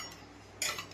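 A single quick metallic clatter of steel plates being lifted and handled in a home kitchen rings out near the end of an otherwise quiet stretch, close and brief, with no voices.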